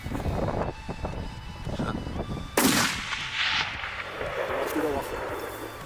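Rifle shot at an ibex while hunting in Spain, one sharp loud crack midway that echoes across open ground, with wind noise and people talking quietly before and after.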